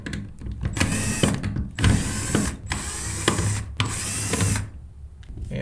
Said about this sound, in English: we're going to take off these 4 screws right here using a number 2 Phillips